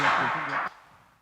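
A looped phrase from a loop station is halted abruptly, the sound cutting off sharply after about half a second and leaving only a faint, brief trace of the delay.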